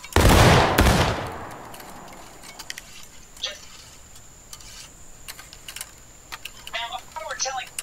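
A musket volley fires on command in the Civil War game War of Rights, opening with a loud, dense burst of overlapping shots that quickly fades. Scattered clicks and faint distant pops follow.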